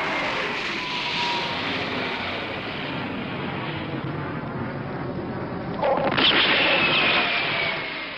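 A steady, broad roar of jet aircraft passing overhead in a tokusatsu TV episode, loud and continuous, with a brief sharp burst of noise near the end.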